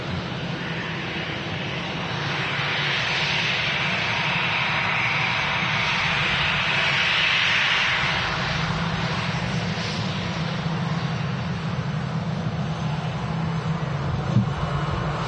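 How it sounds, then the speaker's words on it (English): An easyJet Airbus A320 at Manchester Airport sends out a continuous, loud jet engine roar that swells slightly in the middle and holds steady, with no voices over it. "The Airbus A320 Slightly different title with EasyJet."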